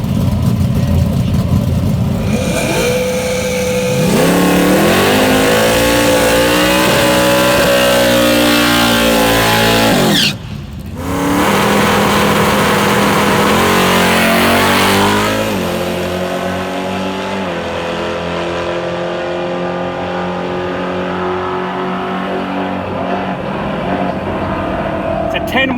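Drag racing cars blast down the strip at a nitro thunder meet, a loud sustained engine roar rising in pitch with acceleration, briefly cutting out midway before another run thunders on, then settling to a steadier drone.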